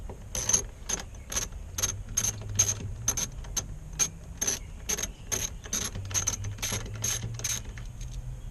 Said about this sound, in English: They're 10mm bolts, so they're three 10mm bolts, and I'll unloosen them.